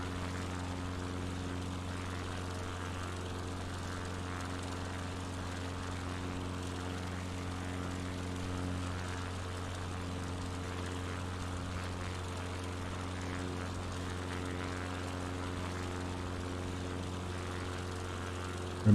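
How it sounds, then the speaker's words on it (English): A Spitfire propeller plane drones steadily through the canyons of a flight video game, a constant low engine hum held at an even, moderate level throughout without talk. "these canyons are begging to be flown by that Spitfire, man."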